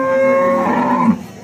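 A cow at a busy cattle market moos once, a loud, close, drawn-out low call that breaks off abruptly at the end, with no talk over it.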